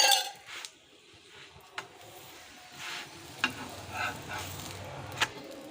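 Moong dal parota frying in oil on a pan, a quiet, steady sizzle with occasional light clicks and scrapes of the pan as it is handled.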